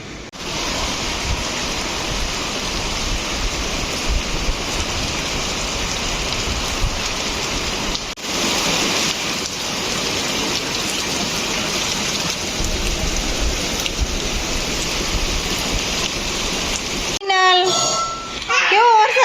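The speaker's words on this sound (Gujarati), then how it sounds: "બહુ વરસાદ આવે છે આજ તો" Heavy rain pours down in a dense, constant roar, with a brief dip partway through and a voice breaking in near the end.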